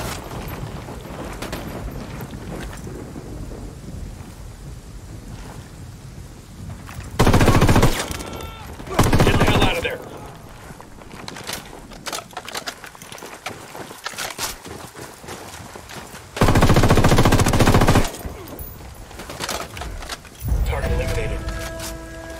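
In the shooter game Ghost Recon Wildlands, loud bursts of automatic gunfire break out in several short volleys, with game ambience and voices in between.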